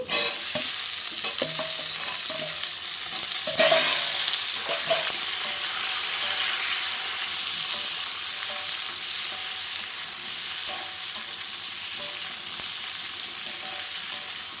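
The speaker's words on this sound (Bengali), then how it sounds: "কাঁচকলাটা দিয়ে আর একটু ভেজে নেব সবজিটা" Potatoes and raw green banana fry in a pan of oil with a continuous sizzle, broken by repeated spatula scrapes and stirring clatter, close and fairly loud, with nobody speaking.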